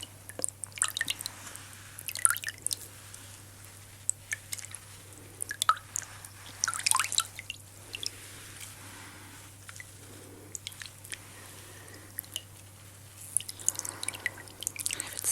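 Cool water drips and squishes during a close-up ASMR pampering session, soft intermittent wet clicks and splashes near the microphone over a faint steady hum.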